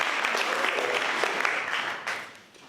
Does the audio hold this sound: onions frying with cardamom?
no